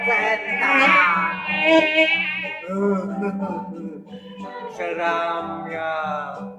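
A ghost-wasp ringtone gives off a loud, close, wavering buzz, with droning swells that rise and fade across several seconds and no talking.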